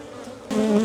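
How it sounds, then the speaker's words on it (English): Agitated honeybees from a hive opened after a long time buzz close and loud, their drone swelling sharply partway through into a dense, higher-pitched hum. "They're unhappy bees."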